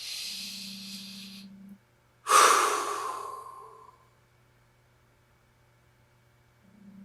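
A slow, deep exhale through the mouth during a guided relaxation breathing exercise, one long breathy rush that fades over about two seconds, with quieter breathing at the start and end.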